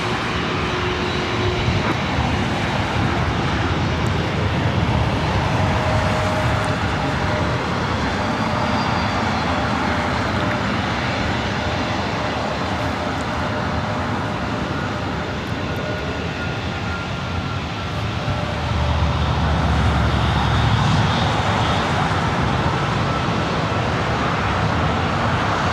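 A jet airliner takes off from runway 24 right at LAX, its engine roar a steady, loud broadband rumble sustained throughout, swelling slightly near the end.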